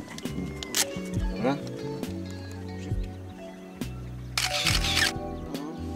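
Several sharp camera shutter clicks scattered among people talking and outdoor rustling.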